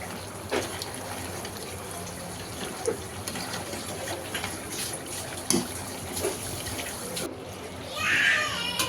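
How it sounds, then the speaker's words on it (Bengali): Hot water poured onto pulao rice in a cooking pot, a steady running trickle and gush lasting several seconds, with a brief louder splash near the end. "এই তো পোলার চালটা আমি এখন গরম পানি দিয়ে দিচ্ছি পরিমাণ মতো।"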